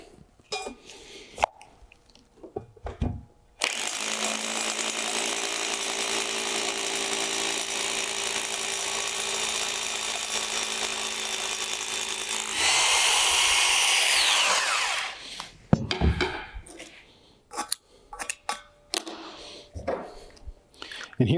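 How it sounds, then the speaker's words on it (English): Hammer drill boring into a concrete footing to mount a post base, a loud steady grinding drone for about nine seconds that rises in pitch near the end, with handling clatter and brief talk before and after. "take your hammer drill."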